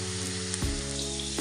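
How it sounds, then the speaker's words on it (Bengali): Potatoes fry in hot oil with whole cumin and poppy seeds, giving a loud, steady, close sizzle over a low droning hum, with no voices. "তেলের মধ্যে একটু গোটা জিরে দিলাম, তারপর আলুগুলোকে দিয়ে দিলাম।"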